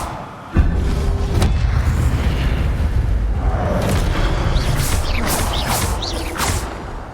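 An Expelliarmus spell effect in Hogwarts Legacy, with a sudden heavy boom followed by a sustained rumbling roar and several whooshing swishes near the end.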